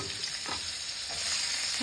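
Onion with white and black cumin and dried chilli frying in hot oil after fish, a steady close sizzle with stirring scrapes, no voices.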